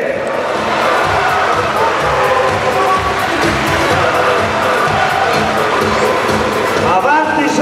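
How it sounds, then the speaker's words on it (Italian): A crowd at a youth sports award ceremony for under-10 to under-14 athletes in Sirmione makes loud continuous noise, with cheering, children shouting and applause, and voices audible throughout. "Applauso."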